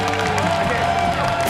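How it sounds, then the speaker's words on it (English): Studio audience at a late-night talk show applauds and cheers for its guests, a dense steady wash of clapping and crowd noise filling the room at close range. "let's have a round of applause for all of our guests here"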